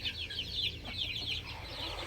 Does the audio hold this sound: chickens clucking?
yes